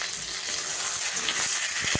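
Spices with Kashmiri chilli powder fry in a pan for a light fish curry with potato and eggplant, giving a close, continuous hissing sizzle with faint crackles and no talking.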